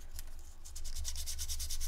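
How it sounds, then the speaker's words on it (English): Rapid, rhythmic rasping strokes of a nail file scratching a slick, hard surface, close and steady over a low hum. "I'm just going to use a nail file"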